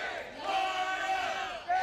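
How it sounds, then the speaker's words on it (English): Home crowd cheering at a Florida Gators college softball game against Florida Gulf Coast, a sustained roar of voices with whoops rising and falling across the stands. "this Gators crowd really getting into it"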